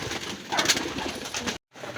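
Racing pigeons cooing and fluttering close by during training in San Jose del Monte, Bulacan, with busy pecking and scuffling noises throughout and a brief silent gap near the end.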